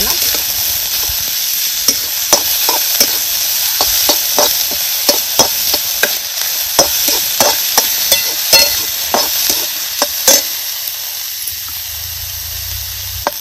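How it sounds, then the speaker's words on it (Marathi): Onions fry until soft for a Satara-style misal, with a loud, steady sizzle punctuated by regular, rhythmic spatula scrapes against the pan. "कांदा चांगला मऊ होस्तोवर भाजायचा आहे आपल्याला."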